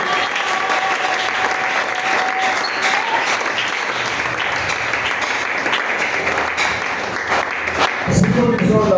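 A church congregation claps loudly and steadily, a dense sustained wave of applause that fills the room, with voices mixed in and a brief lift in intensity near the end.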